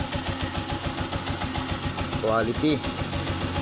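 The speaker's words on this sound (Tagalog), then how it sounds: "Tahimik na tahimik ang makina." An engine idles after its bearings were repaired and upgraded, a steady, even, rhythmic chug close by, while someone talks briefly over it.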